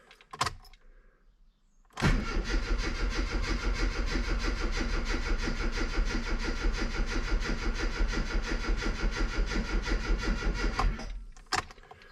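A classic Mini Cooper S Sport 5 engine fires for the first time in a workshop: a brief starter crank, then the engine catches and runs at a steady, loud, even idle for about nine seconds before shutting off abruptly.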